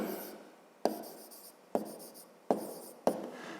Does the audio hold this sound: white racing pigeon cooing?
no